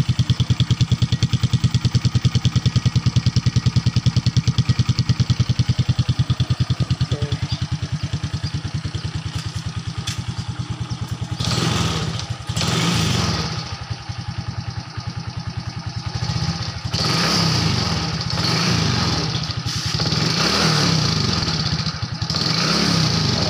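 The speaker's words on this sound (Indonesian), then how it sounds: "Bunyinya masih halus, mesinnya tidak ada bunyi klotok-klotok." A Suzuki Smash FI motorcycle engine, three years in use, idles steadily up close with a fine even pulse, then a few light revs or rattles from a loose plate break through the second half.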